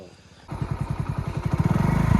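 A motorcycle engine fires up after half a second of near quiet, then settles into a close, steady putter whose pulses quicken and grow louder as the revs climb.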